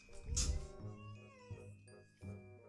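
A cat meows close by in a short series of drawn-out, wavering cries, fairly quiet, with a faint bell-like jingle in the background.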